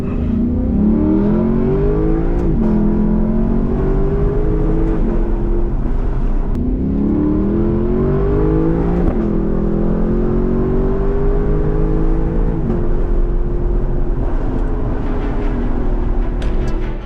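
A Lexus LC500 sports car engine revs and accelerates through repeated paddle-shifted gear changes, each pull rising in pitch before dropping at the shift, loud and close from inside the cabin with no talking.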